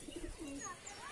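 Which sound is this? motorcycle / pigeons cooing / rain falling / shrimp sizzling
pigeons cooing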